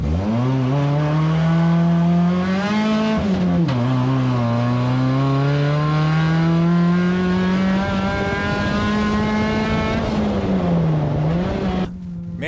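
A cheap track-ready race car engine, loud and close, holding a strained rising drone in first gear as it drives a snowy track, pitch sagging and climbing steadily, with a brief dip near the end.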